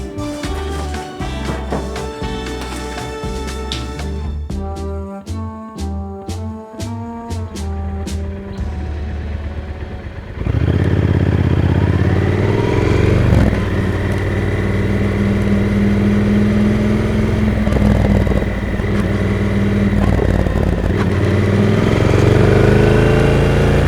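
A motorcycle engine runs throughout, starting with sharp rhythmic revs and pops, then settling into a louder, steady riding drone with wind roar for the rest.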